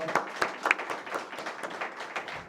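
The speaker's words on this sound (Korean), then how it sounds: "박수로" A church congregation in Korea gives a short, fairly faint round of applause, scattered claps that trail off within a few seconds.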